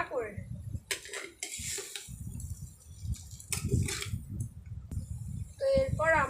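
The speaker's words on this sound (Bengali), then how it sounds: "টমেটো কুচিটা দেওয়ার পর আমরা একটু নাড়াচাড়া করে নেব" Chopped tomato is stirred in a cooking pan for spiced noodles, with metallic scraping and clinking of utensil against pan in uneven strokes, under a voice talking.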